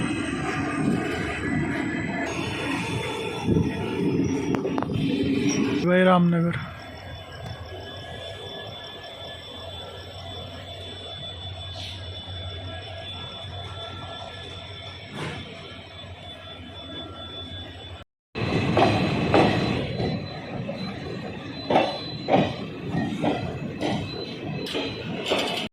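Ramnagar Chandigarh Superfast Express pulled by a WDP4D diesel locomotive departing Ramnagar station, a rumbling engine and wheel noise from on board with a brief squeal, a sudden drop-out and then louder rattling; a voice speaks briefly.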